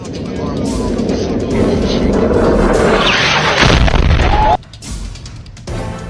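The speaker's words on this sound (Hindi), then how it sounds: "पहला वीडियो एक सीटी की तरह आवाज आती है और फिर धमाका होता है।" An American JDAM bomb strike in Afghanistan gives a loud, sustained roar that builds and then cuts off sharply. A shorter burst follows after a pause, heard close and harsh with no clear talk.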